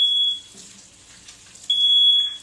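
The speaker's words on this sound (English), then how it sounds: "Danny spoke, so the alarm goes off." A smoke alarm sounds in loud, shrill electronic tones, one long blast, a pause with faint background noise, then another long piercing blast.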